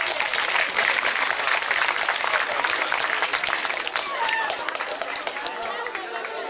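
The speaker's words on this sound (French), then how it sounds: "Même si on ne vous voit pas, on va vous applaudir parce que c'est très chic d'être venu." Crowd at a medieval festival at a château in Tourrettes-Levens applauds the sub-prefect, a dense, steady wash of clapping that fills the whole stretch with a few whistles and cheers mixed in.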